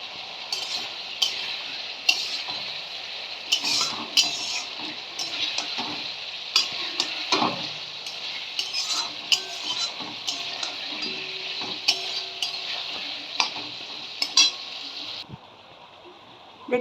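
Kashmiri chili powder and spice masala stir-fried in a pan for a fish and potato curry: a steady, close oily sizzle with intermittent scraping and clicking from the stirring spoon, then a quieter last second.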